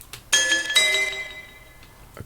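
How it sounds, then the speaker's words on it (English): A dry hi-hat sample with no reverb or pitch shift plays as two bright metallic hits in quick succession, each with a shimmering ringing tail that fades gradually, clean and close with no voices. "If I remove the reverb and the pitch adjuster, it sounds like this."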